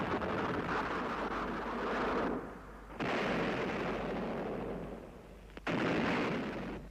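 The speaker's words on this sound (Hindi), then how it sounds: "दोनों ओर से तोपें चलने लगीं।" Heavy cannon fire in battle rolls in long, loud booming bursts, three sustained blasts separated by brief dips, with no voices over them.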